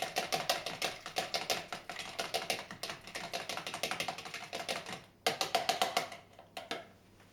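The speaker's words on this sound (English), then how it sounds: "with a fork or whisk, just beat the eggs together until they're all mixed" A fork or whisk beats eggs in a bowl for fried rice, a quick, steady run of light clicking taps, close and fairly quiet, with a short pause before the rhythm resumes.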